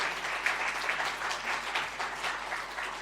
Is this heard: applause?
yes